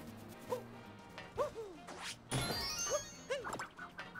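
A dog barks in Super Mario Odyssey: several short, spaced barks or yips at a steady rhythm, close and clear, mixed with a few game effects.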